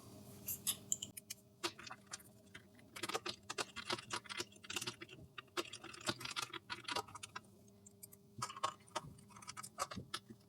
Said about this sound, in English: go ahead and screw the back on